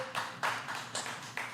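Five sharp claps land in an uneven rhythm, close by and moderately loud.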